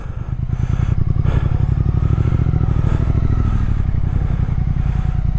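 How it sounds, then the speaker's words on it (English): A 2022 Triumph Speed Twin parallel-twin motorcycle engine runs loud and close, a steady, throbbing rhythmic exhaust beat holding throughout, with no voices. "Oh, this bike, the sound of this bike"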